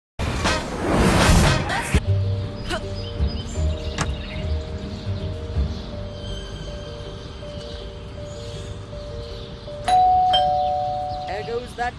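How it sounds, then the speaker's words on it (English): A bell rings in the video game Scary Teacher 3D, a sustained electronic doorbell-like tone holding steady for several seconds before a brighter second chime near the end, following a burst of game noise, with no voices. "There goes that stupid bell again."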